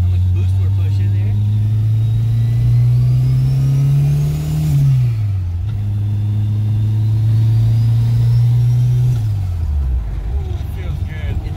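Engine of a 1986 Mitsubishi Starion with a Honda K-series swap and rear-wheel drive, revving loud and close while driving, rising and falling through two long pulls with a dip between, droning steadily over road rumble.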